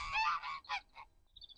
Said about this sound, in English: That's my noisy geese.